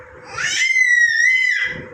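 A child lets out one long, loud, high-pitched scream lasting nearly two seconds.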